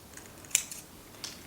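Scissors snip through a lace postcard or paper in two sharp, close cuts, the first louder, with quiet space around them.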